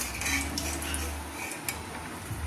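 Fried quail being moved into a serving dish, with a few close, light clinks of metal utensils against the pan and plate. No one speaks.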